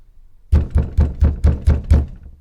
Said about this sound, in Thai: มีคนเคาะประตู